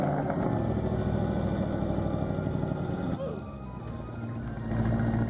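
An Audi RS Q8 engine starting in Roblox Vehicle Legends, a throbbing, clattery idle with a steady low pulse that dips midway and swells again.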